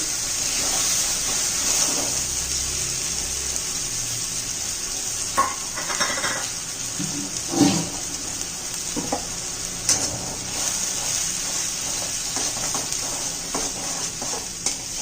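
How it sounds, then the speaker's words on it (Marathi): Tomato, spinach, ginger and garlic paste stir-frying in hot oil for a soybean chunk curry, with a steady close sizzle, scraping of a spoon against the pan and occasional clinks throughout. "व्यवस्थित चांगले हलवून घ्यायची एकजीव करायची तेल सुटेपर्यंत चांगली परतून घेऊया आपण"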